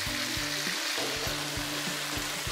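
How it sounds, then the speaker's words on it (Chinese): Pork ribs fry in oil in a pan over medium heat, giving a loud, steady crackling sizzle with bursts of spattering, close up and without any talking. "煎排骨时我们用中火来给它煎制"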